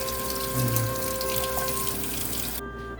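Pork being washed and scrubbed under a running kitchen tap, a steady close rush of water splashing into a sink that cuts off abruptly near the end.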